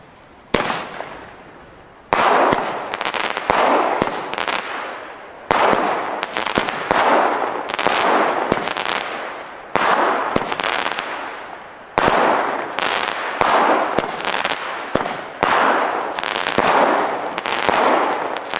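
A fireworks battery from Aldi firing repeated launches in rapid bursts, each volley a sharp crackling pop-filled roar, loud and sustained with brief gaps between groups.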